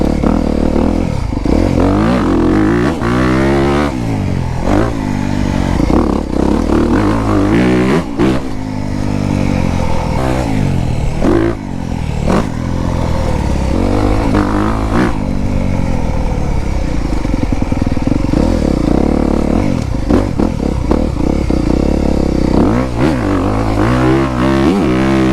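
A 2024 Honda CRF250R dirt bike with a 250 engine revs loud and close, its engine note rising and falling in repeated bursts of throttle with clattery mechanical noise underneath, and no voices.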